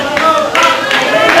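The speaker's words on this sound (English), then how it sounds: "The crowd begins clapping and chanting" A wrestling crowd claps in quick bursts at an NWA St. Louis wrestling event, the applause rising and falling over brief, muffled crowd noise.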